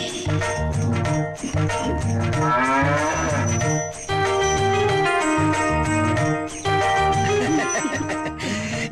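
Several drawn-out low moos from a sick cow close by, set against a steady background of loud music.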